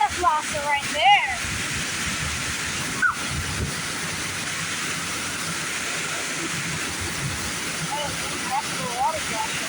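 High-pressure water spray in a truck wash bay roars as steady, loud broadband rushing throughout, with brief voices heard over it near the start and end.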